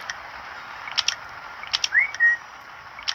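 Short whistled notes and chirpy blips sound over a steady hiss, including a rising whistle and a brief held tone.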